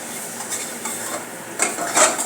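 A spoon mixes and mashes cheeseburger filling of peas with amsul powder and black salt, giving soft scraping and clinking against the dish, close and fairly loud, with a couple of sharper metallic taps near the end.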